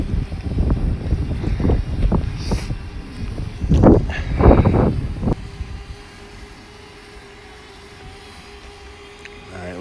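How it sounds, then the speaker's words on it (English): Strong wind buffets the microphone on a hilltop, roaring in loud, irregular gusts for the first half before dropping to a softer, steady rush. "Too much wind though."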